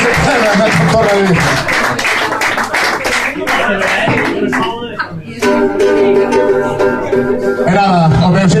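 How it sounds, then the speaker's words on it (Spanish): A small crowd claps and cheers in a bar during a live concert. The applause is loud and close, with a brief lull near the middle before it picks up again, and voices call out over it. "Os aplausos para Freixo"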